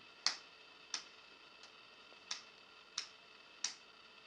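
Single sharp hand claps punctuate a core and leg-raise workout, six crisp, evenly spaced strikes roughly two-thirds of a second apart, each standing alone against a quiet room.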